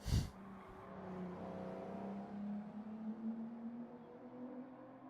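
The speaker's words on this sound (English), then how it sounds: "that must be a big truck outside or something like that." A big truck passing outside gives a low, droning engine rumble that holds steady and swells slightly, heard faint and distant after a short sharp knock at the start.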